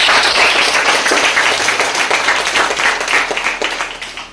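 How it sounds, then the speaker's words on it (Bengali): An audience claps loudly in a hall, dense and sustained for several seconds before thinning out slightly toward the end. "সো আই ওয়ান্ট দ্যাট কি আপনার নিজের ইষ্টের জন্য একটা জোরদার হাততালি হোক।"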